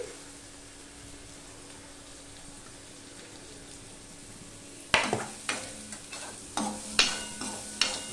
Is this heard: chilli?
yes